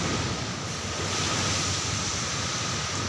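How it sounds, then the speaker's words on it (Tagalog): Big sea waves wash against a port in a continuous, loud roar of surf mixed with wind buffeting the microphone. No voices are heard. "Kusog kayo ang balod pre sa may pantalan diri guys."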